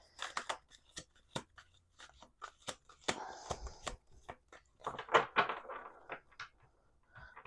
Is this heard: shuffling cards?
yes